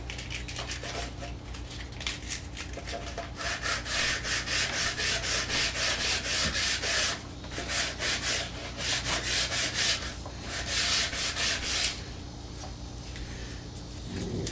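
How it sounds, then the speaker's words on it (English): Close, rhythmic scratchy rubbing of sandpaper in the wooden grooves of a DVD cabinet, sanded by hand in quick back-and-forth strokes, coming in bursts with short pauses, no voices. "do a little hand sanding, clean those grooves out a little bit."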